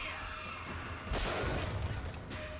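Gunfire erupts in the video game BioShock Infinite, a burst of loud crashing shots over a noisy in-game background, fairly brief.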